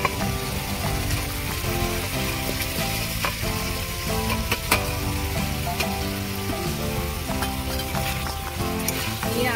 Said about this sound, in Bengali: এবার কিছুক্ষণ আমি এইভাবে কষিয়ে নেব।